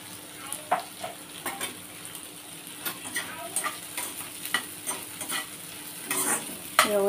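Onion and capsicum stir-fried in a hot pan for restaurant-style chilli chicken, with a steady close sizzle broken by repeated scraping and clacking stirs of a spatula, no voices.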